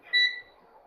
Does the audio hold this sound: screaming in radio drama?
no